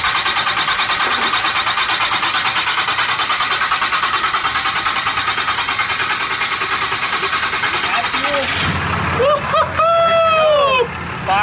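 A Cummins diesel-swapped TRX truck fires up and settles into a steady, loud, close rumble and idle; near the end the engine drone cuts and high whistling tones and short noises follow.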